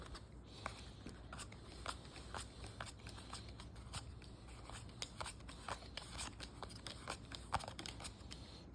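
A deck of Crowns & Cutthroats game cards is shuffled by hand in a quiet room, making soft, steady riffling and flicking with a run of small crisp snaps, faint and close.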